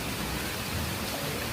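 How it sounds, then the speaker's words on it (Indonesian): Rain falls steadily, a dense even hiss with no breaks and no voices. "Tuh kan hujan kieu."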